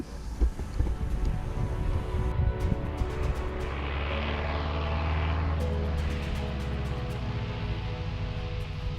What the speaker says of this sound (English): The sound of Cole's Piper Super Cub reverberates around the mountains